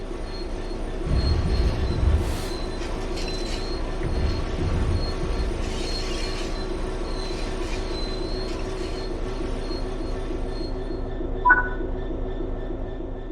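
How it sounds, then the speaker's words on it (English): Train in the Train Sim World 3 video game braking to a stop, with a low rolling rumble and rail noise, thin high wheel squeals rising intermittently, and a brief sharp squeal near the end. "Stopping a train is one of the biggest challenges of controlling them, particularly stopping them in the right place."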